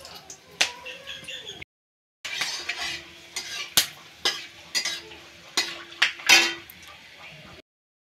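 Bay leaf and whole garam masala spices fry in hot oil for chicken biryani, with a soft sizzle under repeated sharp clinks and scrapes of a metal utensil against the pan, broken by a brief silent pause.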